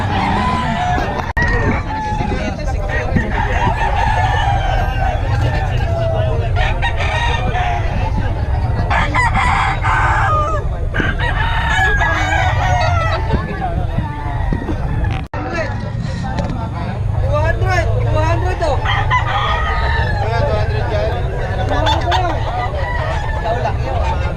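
Several roosters crowing repeatedly amid a busy crowd in Bocaue, with voices, chatter and traffic noise filling the background throughout.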